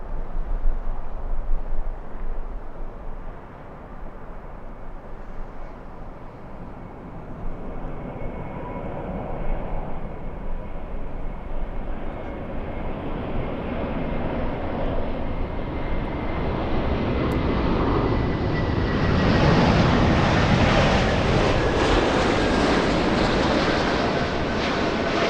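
An airliner lands on runway 24 right at Los Angeles International Airport: a broad, steady jet engine roar that swells and rises in pitch over about 25 seconds, with a thin whine running through it and no talk.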